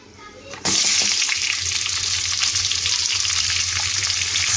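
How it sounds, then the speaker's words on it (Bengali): Sliced onions hit hot oil in a wok and break into a loud, steady, close sizzle that carries on without a break. No one talks. "এই পেঁয়াজটাকে লাল লাল করে ভেজে নেব।"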